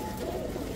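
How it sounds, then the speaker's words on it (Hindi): Punjabi pigeons from a dealer's stock for sale coo in a brief, steady low murmur, close by and fairly soft. "ये देखो सारे पंजाबी कबूतर हैं"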